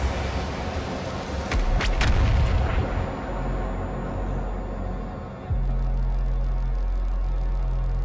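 The BFG 10000 cannon firing in Doom Eternal, a loud booming blast with a rumbling rolling decay that fades over a few seconds, then a steady heavy mechanical hum sets in abruptly and holds.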